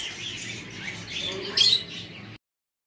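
Pet cockatiels and small Indonesian birds in a colony setup chirp in a steady, fairly faint mix of high calls, with one brief louder squawk near the end and no talking.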